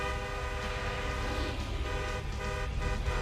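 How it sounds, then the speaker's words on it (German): A car horn in GTA Online honks in a sustained toot at the start of a race, steady and fairly loud over a dense bed of engine and game noise, with no talking. "Immer schön ein bisschen Hupen beim Starten."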